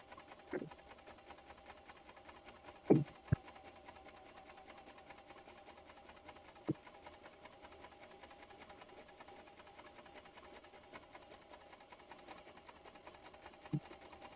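A sewing machine stitches fabric with a quiet, steady whirring hum throughout, broken by a few faint clicks and knocks.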